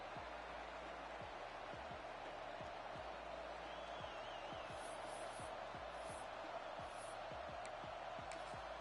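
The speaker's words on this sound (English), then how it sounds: "It's early, but this crowd is fired up. Listen to this noise here." Stadium crowd noise from the video game NCAA College Football 26 at Ohio State: a dense, continuous roar of a packed crowd with scattered thumps and faint whistles, steady and loud throughout.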